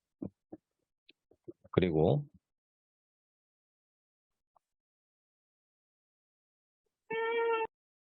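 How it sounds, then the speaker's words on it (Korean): A house cat lets out a short, clear meow near the end, after scattered clicks and a brief rough sound earlier, with near silence in between. "저희 집에 지금 고양이가 있어가지고 고양이가 방금 방해를 해서"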